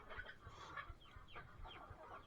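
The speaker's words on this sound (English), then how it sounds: "Why is there so much yapping and clucking?" Several chickens cluck in short, repeated bursts at close range in a farm coop, with soft low thumps underneath and no talking.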